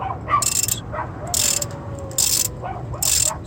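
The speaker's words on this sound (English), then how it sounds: "So let's turn it to the left and see if it loosens" A wrench ratchet turns to loosen a spark plug on a VW MK6 GTI, giving four short bursts of rapid metallic clicking, close and distinct, separated by brief pauses.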